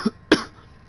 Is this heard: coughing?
yes